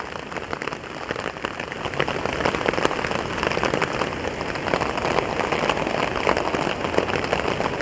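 Heavy, relentless rain pours down over a campsite at night, a thick continuous hiss and patter of drops hitting surfaces close by, unbroken throughout.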